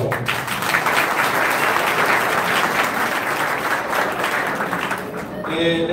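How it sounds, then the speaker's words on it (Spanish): A crowd gives sustained, dense applause at the inauguration of a campaign office in Santo Domingo Oeste, clapping loud and steady for several seconds before a voice begins at the end. "Un aplauso para ellos."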